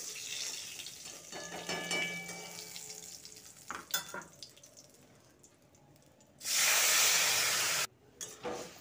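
Cabbage is tossed into hot oil in a wok already tempered with dried red chillies, five-spice and bay leaves, bringing soft sizzling and stirring followed by a sudden loud hissing burst of frying.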